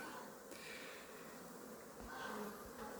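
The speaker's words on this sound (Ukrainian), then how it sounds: "Наші бджолки облітуються." Honeybees flying outside their hive on a warm, sunny winter day, a steady low buzzing hum lasting throughout with a couple of brief louder passes, heard without talk.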